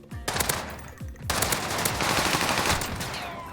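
Rapid automatic gunfire in the Warzone video game, loud and close, with short bursts that give way to a long continuous volley and no talking over it.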